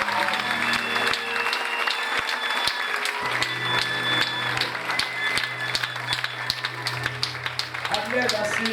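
Children and teenagers at a huge Bible camp clap together, sharp distinct claps over a sustained crowd roar, with voices and a held musical tone running underneath.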